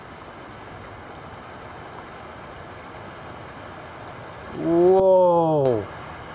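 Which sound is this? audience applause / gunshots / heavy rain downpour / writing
heavy rain downpour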